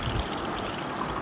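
Milk is poured into a bowl for an eggless no-bake bread Oreo pudding, a soft steady trickle of liquid that runs briefly and quietly without speech.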